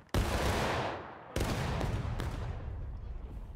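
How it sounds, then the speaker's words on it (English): A musket volley rings out in the Civil War game War of Rights: a sharp, loud massed crack, followed by a second ragged burst of shots and a long echoing rumble that fades out. "Holy shit, that was a good volley."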